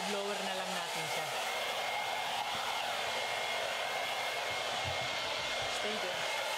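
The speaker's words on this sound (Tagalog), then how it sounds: "So, ibu-blower na lang natin siya." A hair dryer blows steadily at close range as it is used to dry a dog, a continuous airy roar with a low motor hum running throughout, with no talking.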